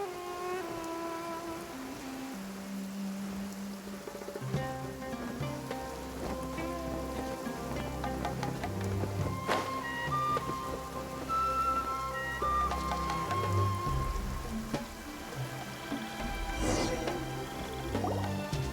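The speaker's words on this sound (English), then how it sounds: "Quite a downpour." A heavy rain downpour in Genshin Impact, soft steady dripping and pattering of water running under a layered background score for the whole stretch.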